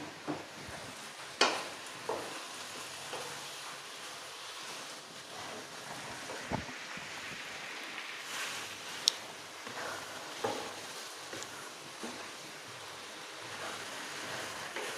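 Catfish stir-fried with curry paste and a little water in a pan, a low sizzle with scraping and stirring sounds, and sharp clinks of a utensil against the pan at irregular intervals.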